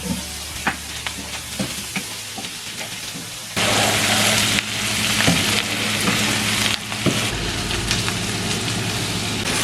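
Squid curry fries in a pan as it is stirred, a steady bright sizzle and hiss, with scraping strokes of a spoon and brief clatters, growing louder and denser after the lid comes off.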